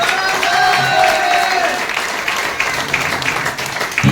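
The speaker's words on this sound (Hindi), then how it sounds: "तालियां बजेगी, बजेगी।" Audience at a new distributor basic training session applauds, a dense wash of clapping with crowd noise and some voices mixed in, fairly loud and sustained.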